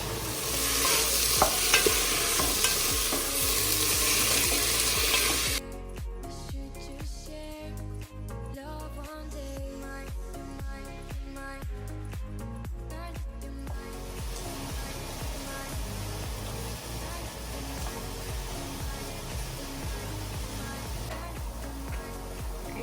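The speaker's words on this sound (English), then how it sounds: "now we can mash our vegetables. We're just gonna use a large wooden spoon" A large wooden spoon mashes tender cooked vegetables in a pot for Haitian legume with pork, a steady wet squelching and stirring with rhythmic scraping, louder and hissier at first and then softer and even.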